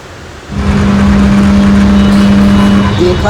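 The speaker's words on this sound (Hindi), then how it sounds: "देख सकते हैं हमारा जैसे एसी चालू हुआ है।" Indoor air conditioner with a faulty capacitor switching on, a sudden steady loud hum with a strong low drone that holds evenly, heard close up and alone.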